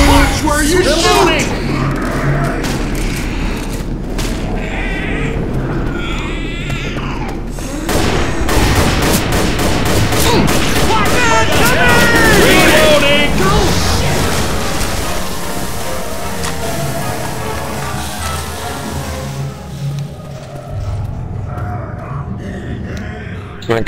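Rapid bursts of gunfire crackle in a Left 4 Dead 2 versus match in a hospital level, repeated volleys and booms over game sounds while players talk.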